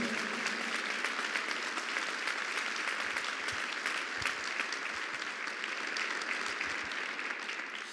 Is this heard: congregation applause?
yes